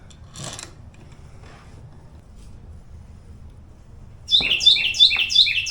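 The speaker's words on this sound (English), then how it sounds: "that bird scared the crap out of me" A bird loose in a motorcycle workshop, where a 1970 Suzuki TC-120 is being repaired, gives a quick run of four or five sharp, loud chirps close by after a quiet stretch with faint clatter.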